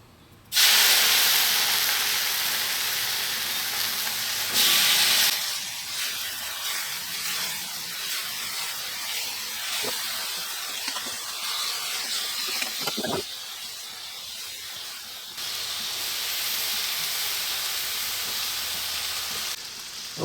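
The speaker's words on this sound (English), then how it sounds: "now that we got the bacon cooking" Bacon sizzling on a stainless steel griddle set on a Weber grill, a steady bright hiss and crackle that jumps louder in bursts as strips are added, continuing close and unbroken for some time.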